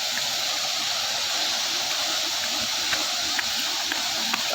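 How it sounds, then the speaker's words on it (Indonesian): Steady broadband rush of falling water from a waterfall about 15 metres high, a constant hiss with no breaks, heard fairly close and alone. "wisata air terjun ini."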